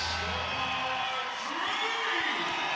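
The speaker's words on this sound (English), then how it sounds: "Everyone's standing, and suddenly it's deafening in here." A basketball arena crowd stands and cheers loudly in a deafening, sustained roar, while a commentator's voice talks over it.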